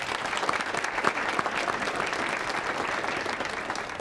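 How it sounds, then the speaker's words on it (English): Sustained applause from a crowd at a university awards ceremony, steady and dense clapping throughout with a few louder claps standing out. "can we please give a round of applause for all of that hard work?"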